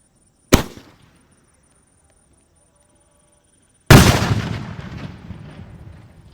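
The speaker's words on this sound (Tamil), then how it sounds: "நாட்டு வெடியிலே ஒரு அவுட் வந்து வாங்கிட்டு வந்திருக்காங்க இது எப்படி வெடிக்குது அப்படின்றத வந்து பார்த்துருவோம்" Two country firecrackers (naatu vedi) go off outdoors: a sharp short bang, then after a few seconds of quiet a much louder blast whose rumble trails off slowly.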